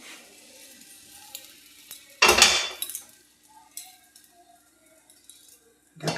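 A metal lid set down over an apam maker pan while cooking chitoi pitha, giving one loud clanking contact in the middle, then quiet kitchen clinks and a faint background hum.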